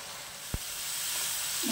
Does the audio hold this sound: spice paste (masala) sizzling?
yes